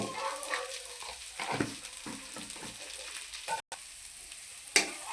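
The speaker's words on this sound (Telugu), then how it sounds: "మళ్ళీ వేపుకుందాము ఇందులోకి చిటికెడు పసుపు వేసుకుందాము" Drumstick leaves (munagaku) frying in a pan with a pinch of turmeric, giving a steady close sizzle with soft stirring scrapes and a sharper crackle near the end.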